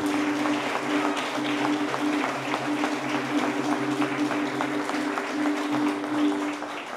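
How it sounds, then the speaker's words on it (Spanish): Audience applause during a Catholic Mass, a sustained wash of clapping that continues for several seconds over a soft, steady musical drone. "Un fuerte aplauso a ella también."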